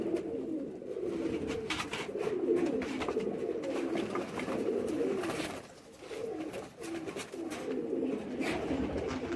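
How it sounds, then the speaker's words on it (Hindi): Pigeons, sold as prized breeding stock, coo in a low continuous murmur that runs steadily throughout, fairly close, with no voices over it. "वाकई बहुत अच्छे कबूतर हैं।"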